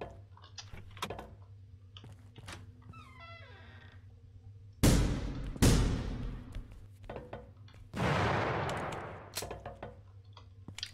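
Two sharp gunshots in the video game The Final Station crack out close together around the middle, followed later by a third broadband burst that decays more slowly, set against quiet ambient game sounds and faint music.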